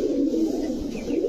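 Spanish gorgorio pigeon cooing close by, a steady low throaty rolling coo running continuously without pause and with no voices.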